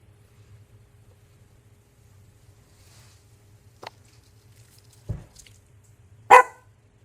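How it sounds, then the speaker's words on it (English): A pet dog barks a few times, single sharp barks spaced apart and getting louder toward the end, over a low steady hum in an otherwise quiet indoor room. "There goes my dog Peanut."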